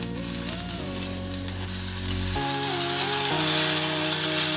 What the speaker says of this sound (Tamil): இதில் இருக்க மாய்ஸ்சர் போகிற அளவுக்கு நல்லா சாட்டே பண்ணி எடுத்துக்கலாம்.